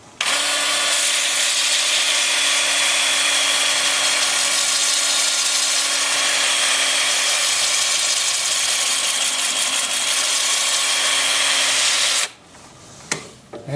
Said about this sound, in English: Then the 2-inch sanding disc.